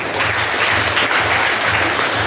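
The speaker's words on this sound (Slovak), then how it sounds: "Potlesk!" An audience bursts into loud, sustained applause at a live show, dense clapping running evenly throughout with a low hum underneath.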